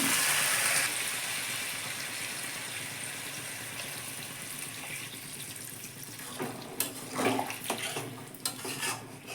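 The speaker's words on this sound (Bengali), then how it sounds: "প্রথমে দইয়ের বাটিটা দিয়ে জল দিয়ে দিলাম" Water is poured from a yogurt bowl into a cooking pan of braised vegetables, a continuous splashing flow with clinks of dishes and utensils toward the end.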